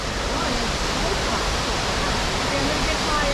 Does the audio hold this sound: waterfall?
yes